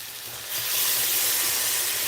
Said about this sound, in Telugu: కొంచెం వాటర్ యాడ్ చేసుకోవాలి